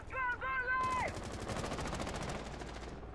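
Rapid automatic gunfire in Rainbow Six Siege rattles as a steady burst of shots after a brief electronic tone, moderately close and continuing to the end.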